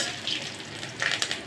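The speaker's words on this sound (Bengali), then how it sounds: "এখন আমি রসুনগুলো ভালো করে, কাটা রসুনগুলো ভালো করে ভেজে নিব, একবারে লাল লাল করে" Chopped garlic frying in hot mustard oil, a steady close sizzle with brief stirring scrapes and crackles near the end.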